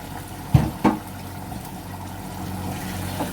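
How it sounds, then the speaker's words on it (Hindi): Spinach cooking water is poured onto browned meat in a pot for palak gosht, giving two short splashy gushes near the start, then a soft liquid hiss and faint bubbling that fades to quiet. "इसको गलाने के लिए थोड़ा यही पानी डाल देंगे, ये पालक वाला पानी है ना, यही डाल देंगे।"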